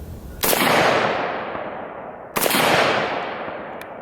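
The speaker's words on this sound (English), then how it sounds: "Reflexive shooting is very instinctual with these rifles." IWI Galil ACE rifle fired outdoors, two loud sharp gunshots about two seconds apart, each with a long echoing decay trailing off behind it.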